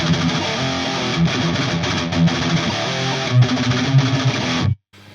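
A Les Paul electric guitar plugged straight into a modded Marshall JCM 800 2203 amp with no pedals, playing a sustained distorted riff with chugging chords, loud and full, ending in an abrupt cut to silence.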